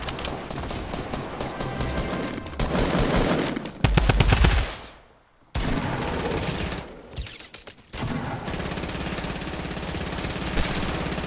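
Rapid automatic gunfire in Fortnite Battle Royale, loud dense bursts of continuous shooting broken by brief pauses, with a near-silent dip midway before the firing resumes.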